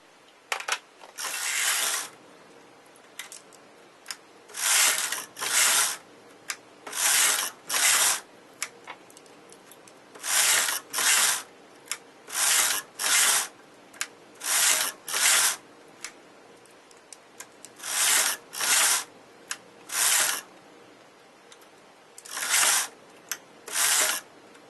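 A knitting machine carriage is pushed back and forth across the needles in close, loud, rhythmic bursts of rattling mechanical clatter, each pass lasting about a second, with short pauses between runs.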